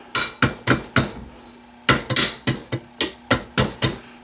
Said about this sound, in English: I'm going to go ahead and tap this with the mallet a little bit.